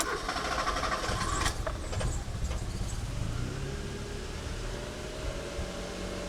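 A Mazda 323F engine holds a raised, steady idle, a low continuous hum with some brief higher-pitched rattles early on and no talk.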